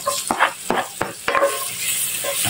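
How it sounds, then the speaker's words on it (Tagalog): Minced garlic sizzles in butter in a pan, a steady close frying hiss broken by a few sharp scraping strokes of a utensil near the start. "Lalagay ko yung ating minced na garlic."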